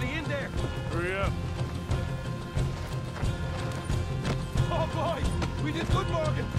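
Horses whinny and neigh amid clopping hooves in the Red Dead Redemption 2 video game, loud and close, with characters talking over the animals.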